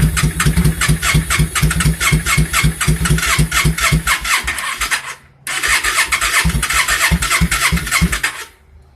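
Motorcycle engine struggling to start in cold weather, acting starved for fuel: loud, close, rapid chugging cranking and sputtering that cuts out briefly, then resumes before dying away, with no talking.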